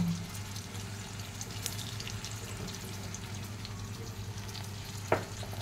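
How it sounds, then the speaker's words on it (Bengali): Fish frying with spices, onion and green chilli in a pan, a steady broad sizzle running throughout with low stirring scrapes and one sharp clink near the end. "আমি মাছ ভালো করে কষিয়ে নিব"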